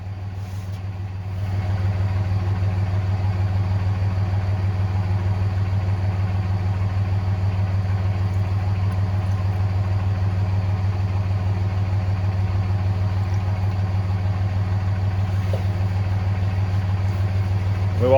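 A 429 V8 in a hot rod build idles steadily after starting, a loud, even low rumble held close for the whole stretch with no talk over it.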